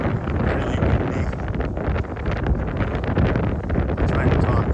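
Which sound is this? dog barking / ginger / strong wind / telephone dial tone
strong wind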